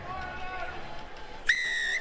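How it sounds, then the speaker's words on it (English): A referee's whistle at a rugby sevens match at the Canada Sevens gives one sharp, sustained blast lasting about half a second, rising clearly above a steady murmur of crowd noise. "Whistle goes."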